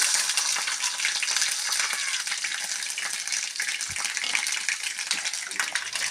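Dried red chillies and curry leaves crackle and sizzle in hot oil, a dense, steady frying hiss with scattered pops that stays loud and unbroken throughout, with no one speaking.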